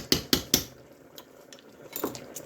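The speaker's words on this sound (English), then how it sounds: "And stir that in there." A spoon stirs sour cream into a stuffed pepper casserole, with three quick metallic scrapes and clinks against the dish, followed by quieter scattered taps and one more soft clatter near the end.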